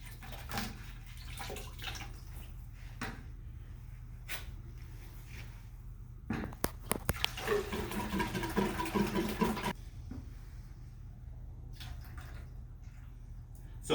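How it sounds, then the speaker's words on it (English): Water is poured out of a concrete air meter during a volumetric air test, a splashing gush lasting a few seconds over a steady low engine hum, with a few knocks before it. "we gotta dump this water out"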